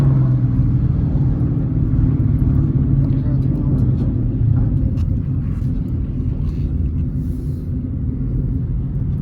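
A manual car pulls away at about 3,000 RPM, a steady low engine rumble holding at an even level throughout with a faint hum running beneath it.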